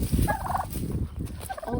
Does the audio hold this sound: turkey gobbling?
yes